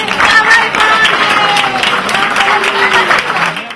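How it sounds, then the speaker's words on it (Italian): Warm, sustained applause from a moved crowd at a celebration of a woman's hundredth birthday, loud and close, with many hands clapping continuously while faint voices mingle underneath. "Tra applausi di persone emozionate"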